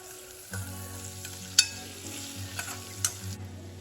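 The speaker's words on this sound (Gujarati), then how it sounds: "અને આ બંને વસ્તુને આપણે 1 થી 2 મિનિટ માટે બરાબર સાંતળી લઈશું" Ingredients with chili powder and turmeric sauté in a pan, giving a soft, steady sizzle over a low hum, with occasional sharp clicks and scrapes as a spoon stirs against the pan.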